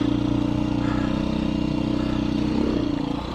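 A Beta dirt bike engine with a 13-tooth front sprocket drones steadily while riding, a close, even mid-pitched hum with a slight rise near the end.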